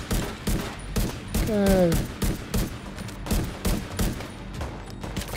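Rapid gunfire in The Division 2 shooter game, dense repeated shots in quick bursts with a brief rising tone partway through, and someone briefly speaking over the battle.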